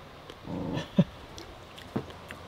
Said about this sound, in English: Maybe the dog wants them too.